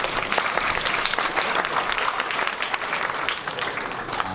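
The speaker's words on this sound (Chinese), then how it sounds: "给自己一个掌声" Dense, steady audience applause fills a hall at a high school guitar club showcase, continuous and fairly loud throughout with no pauses.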